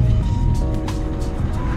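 Cars passing by close on a city street, a loud rushing engine and tyre noise rising and falling over about two seconds.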